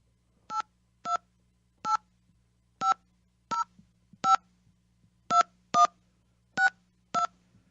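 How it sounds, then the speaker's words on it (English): A phone line being dialed with touch-tone keys, ten short separate beeps at an uneven pace over a faint low line hum, clear and close with no talking. "dialing the phone."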